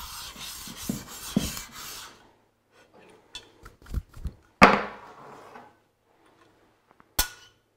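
A hand plane's sole is rubbed back and forth across sandpaper on a flat workbench, making a close, gritty rasping for a couple of seconds, then a few scattered knocks and taps.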